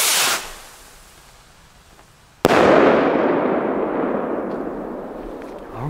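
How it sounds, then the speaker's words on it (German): A red Patrol Rocket New Year's firework hisses away on launch, then bursts with one sharp, loud bang followed by a long, fading crackle. "Wir fangen jetzt an mit der ersten Patrol Rocket."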